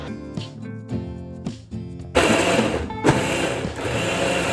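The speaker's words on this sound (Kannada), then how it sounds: "ನಾನು ಇಲ್ಲಿ ನೀರು ಹಾಕ್ತಿಲ್ಲ, ಜಸ್ಟ್ ಕರ್ಡ್ ಒಟ್ಟಿಗೆನೆ ಬ್ಲೆಂಡ್ ಮಾಡ್ತಿದ್ದೀನಿ" A kitchen mixer grinder blending coriander, mint leaves and curd without water, starting with short pulses and then running into a loud continuous grinding whir up close.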